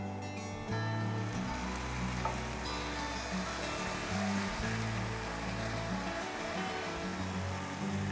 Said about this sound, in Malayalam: നമുക്ക് ഈ മസാല നല്ലതായിട്ട് അതിൻ്റെ പച്ചപ്പ് മാറുന്നിടം വരെ ഒന്ന് മൂപ്പിച്ചെടുക്കാം